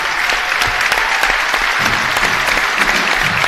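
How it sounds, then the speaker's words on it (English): Steady audience applause in a school gym during a basketball senior night ceremony, continuous crowd clapping at moderate loudness with no speech over it. "So if you would, clap for Brian Manning, please."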